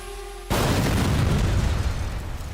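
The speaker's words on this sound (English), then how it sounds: "Such massive explosion occurs because of the detonation of the ammunition inside." Tank ammunition detonates inside a Russian tank hit by an FPV drone: a sudden, massive blast that erupts at once and then roars on as a loud, sustained rumble for the rest of the clip.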